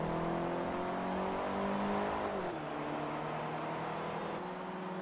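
An Opel Astra engine drones at high, steady revs in a Forza Motorsport 3 drag race, with the pitch dropping at a gear shift partway through and then climbing again, loud and continuous with no talk.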